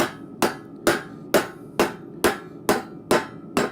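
Rounding hammer striking hot steel in a swage block at a blacksmith's forge, eight light, evenly spaced ringing blows roughly every half second, close and clear, with no voices.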